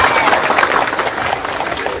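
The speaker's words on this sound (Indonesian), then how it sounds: "Tepuk tangan buat abah" Broadband applause from a crowd at a religious gathering, steady clapping that fills the whole stretch, loud and close.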